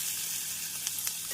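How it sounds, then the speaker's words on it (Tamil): Finely chopped onion sizzles steadily in hot oil with cinnamon, cooking for a potato and beans poriyal, with a constant close bright hiss and a couple of faint stirring taps. "பொரியவும் பொடியாக நறுக்கிய வெங்காயத்தை சேர்த்து விடலாம்."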